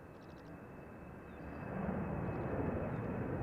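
A jet airliner departs Brussels Airport, its broad engine roar building steadily and growing louder over a few seconds from a distance, with faint bird chirps above and no speech.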